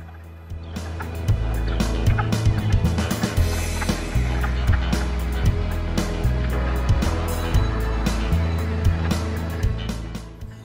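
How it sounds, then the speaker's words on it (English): Wood frogs call from a vernal pond in a dense, continuous chorus of duck-like quacking clucks that overlap steadily throughout, with a low rumbling background. "Wood frogs are the frogs that you hear quarreling in the background."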